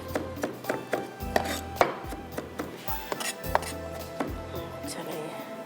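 Knife chopping ingredients finely on a board for crispy chicken tenders, a steady run of sharp close taps in quick bursts with short pauses, fairly clear and alone.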